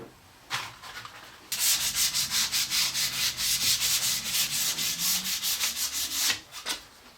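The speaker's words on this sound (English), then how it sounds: "give the frame a good sanding all over" A wooden frame gets sanded by hand with rhythmic back-and-forth strokes, a fast, even series of close, raspy swishes after one short lead-in stroke.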